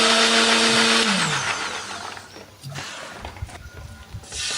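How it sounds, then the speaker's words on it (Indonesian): A kitchen blender grinds a spice paste of shallots, candlenut and turmeric with a little water. The motor roars loudly at first, then winds down into a rough, churning whir. "Kita tambahkan sedikit air supaya lebih gampang untuk menghaluskannya."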